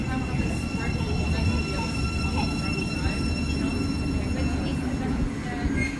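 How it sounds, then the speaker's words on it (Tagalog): A twelve-coach train pulls into a busy station in the UK, a loud continuous rumble of wheels and rail noise with faint squeals and a steady hum, close by. "Ito na yata yung train ni Cathy."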